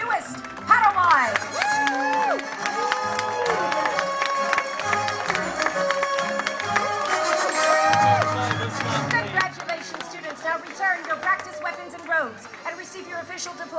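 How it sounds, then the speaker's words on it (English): Onlookers at a Jedi Academy show at Disney's Hollywood Studios applaud and cheer the newest Padawans, a steady wash of clapping and crowd noise mixed with music and a voice over the top throughout. "while the onlookers give them one more round of applause"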